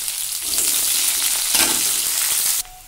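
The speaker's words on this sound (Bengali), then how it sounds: "পেঁয়াজ দিয়ে ভালো করে কষাবো" Onions and mustard seeds sizzle loudly in hot oil in a pan, a dense steady frying hiss that runs close and continuous for a few seconds, then cuts off abruptly near the end.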